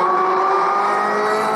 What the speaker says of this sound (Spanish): nunca había escuchado pasando a fondo por un túnel este carro